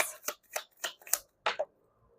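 Tarot cards being shuffled by hand, five or six quick riffling bursts close up, then a short pause and one last double flick, quiet and alone.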